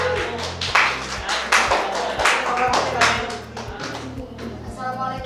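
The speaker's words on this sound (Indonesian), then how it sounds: "Ya, tepuk tangan untuk kelompok" A small classroom group claps for the presenting team, sharp individual claps in a steady rhythm, close and fairly loud, with murmured voices underneath.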